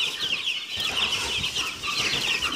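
Five-day-old Cobb 500 broiler chicks peep constantly, a dense chorus of shrill chirps close by, rising and falling without pause.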